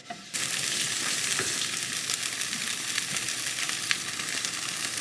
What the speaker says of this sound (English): I decided to make a couple of regular pan-fried spam.